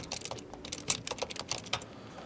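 Keys on an HP OmniBook 5 Flip laptop are typed in quick irregular bursts, with close, crisp clicks heard alone and no talking.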